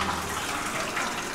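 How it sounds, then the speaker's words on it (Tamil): Water gushes from a tap into a small, cheap manual washing machine, a brief steady hiss of flowing water heard alone. "இப்போ நான் வந்து டேப் ஓப்பன் பண்ணுறேன் பாருங்க, உள்ள தண்ணி வரும்."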